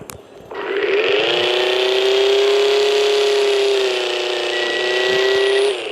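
A modified Tofaş Şahin car in a video game, fitted with an aftermarket exhaust, revs up into a loud, sustained engine drone that holds steady for several seconds before cutting off.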